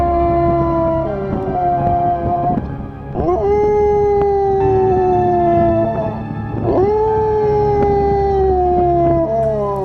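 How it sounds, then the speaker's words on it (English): A faithful dog left behind by its departed family in the Rann howls in long, sliding, wavering calls, three drawn-out howls rising and falling one after another, loud and close with no other sounds. "Howling for the family gone by, the faithful dog"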